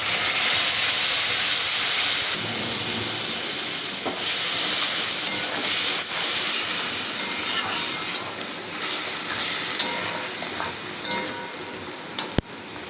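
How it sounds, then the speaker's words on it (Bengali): Ground spice paste hitting fried pointed gourd in hot oil, a steady loud sizzle and hiss with occasional stirring scrapes, ending in a sharp knock. "পটলটা আমি খুব ভালো করে ভেজে নিয়েছি এবার আমি বেটে রাখা মশলাটা দিয়ে দেবো"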